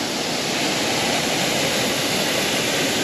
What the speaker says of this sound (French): Oh, elle est chouette la cascade.